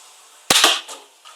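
A Nerf Star-Lord Quad Blaster fires darts from two barrels, giving two sharp, close pops in quick succession followed by fainter clatter.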